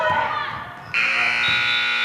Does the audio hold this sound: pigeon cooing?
no